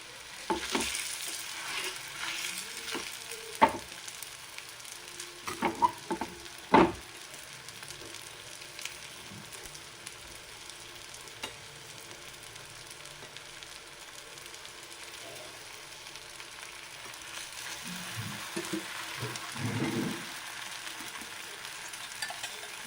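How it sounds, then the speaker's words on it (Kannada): Masala akki rotti cooks on a hot griddle with a soft, steady sizzle, broken by a few sharp taps and clatters early on and some handling noise near the end, with no talking. "ಸ್ಟವ್ ಹಚ್ಚಿ ಹೆಂಚಿಟ್ಕೊಂಡು ಹೆಂಚು ಬಿಸಿ ಆಗಿದೆ. ಈಗ ರೊಟ್ಟಿ ಹಾಕ್ಕೊಳ್ಳೋಣ"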